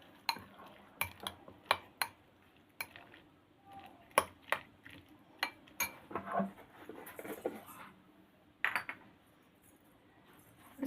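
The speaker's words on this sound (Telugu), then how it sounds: "ఇప్పుడు మిక్స్ చేసుకుంటాము." A spoon mixes onion sandwich stuffing in a bowl, making a series of light clinks and scrapes at an uneven rhythm, close and fairly quiet.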